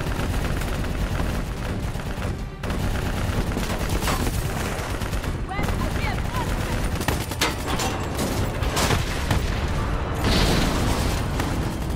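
Sustained gunfire and booming explosions fill a battle in Call of Duty: Black Ops III as fire is focused on a VTOL aircraft, loud and continuous with overlapping bursts.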